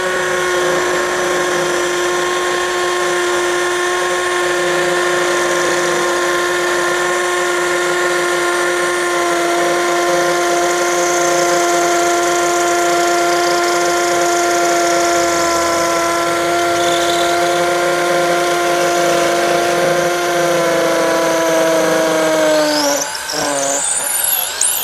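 A corded impact drill in impact mode at speed 2 bores a 10 mm hole into concrete, producing a loud, steady whining hum that runs unbroken for most of the stretch before briefly faltering near the end as the bit breaks through.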